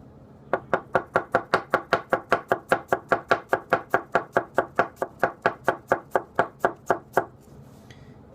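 A Gassan 210 mm gyuto kitchen knife chops radish on a board: close, crisp, evenly spaced cuts, around two dozen in quick steady rhythm, then stopping.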